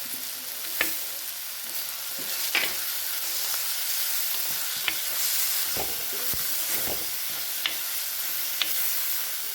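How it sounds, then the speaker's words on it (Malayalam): Steady sizzling of onions, shallots, green chilli, ginger and garlic sautéing with turmeric in a pan for a Kerala fish perattu, with a constant hiss and occasional sharp pops and stirring scrapes close by. "നമ്മൾ സവാളയും ചെറിയ ഉള്ളി, പച്ചമുളക്, ഇഞ്ചി, വെളുത്തുള്ളി എല്ലാം നന്നായിട്ട് വഴഞ്ഞ് വന്നിട്ടുണ്ട്"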